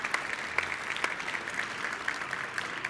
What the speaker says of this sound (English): I want to give a round of applause to Mr.